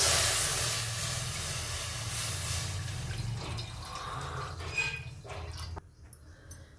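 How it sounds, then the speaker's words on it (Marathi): A hissing sizzle as milk is poured into a hot pan with a little water, fading into softer bubbling and faint drips, heard up close with no talking. "आता आपण दूध टाकून घेऊ"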